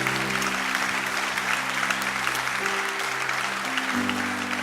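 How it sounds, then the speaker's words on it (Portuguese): A church congregation claps steadily and enthusiastically during a sermon, with a low sustained musical tone beneath the applause. "Quem pode aplaudir o Senhor comigo?"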